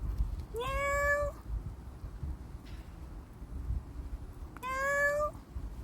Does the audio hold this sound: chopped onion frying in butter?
no